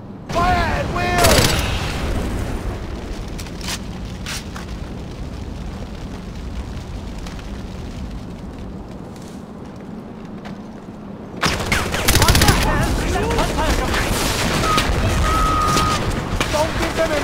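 A sustained Far Cry 4 battle with continuous gunfire and explosions, loud and dense throughout, swelling into a heavier barrage near the end, with shouted voices mixed in.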